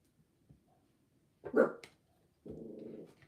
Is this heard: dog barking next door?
yes